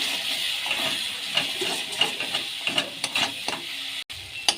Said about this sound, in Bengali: এই মশলাটা ভালো করে কষানো হয়ে গেছে